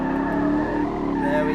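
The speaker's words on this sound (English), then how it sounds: "let's warm up these back tyres a bit with a bit of a cheeky donut" A car spins a donut to warm its rear tyres, a steady loud squeal of tyres over a droning engine running continuously throughout.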